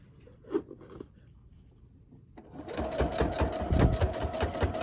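A sewing machine stitches a finished edge onto a fabric purse journal, starting after a few soft fabric handling sounds, then running in a fast, close, steady rhythmic whir.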